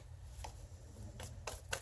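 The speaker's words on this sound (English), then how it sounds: "that's just sloppy shuffling" Tarot cards shuffled sloppily by hand: a few quiet, uneven papery flicks and riffles in quick succession, close but faint.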